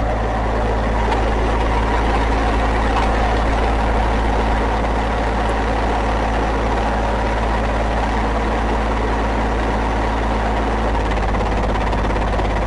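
An engine with a fuel problem runs steadily with a deep, constant low rumble and droning hum, close by and unbroken throughout, with no voices.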